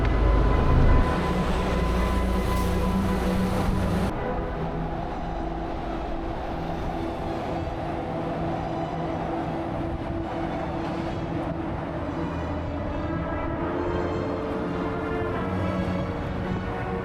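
A train rolls past in the French Alps with a loud, steady rumble and a rail hiss that carries on the whole time. Near the start it is louder and brighter, then it settles into a constant drone.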